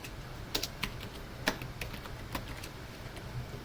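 Keys on a computer keyboard are pressed in a few sparse, quiet clicks, spaced irregularly against a faint background hum.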